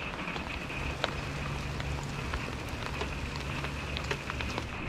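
Steady rain falls during a Midwest thunderstorm around a parked RV, a dense, even hiss of drops spattering on surfaces with scattered sharper ticks, continuous and fairly close with no talking.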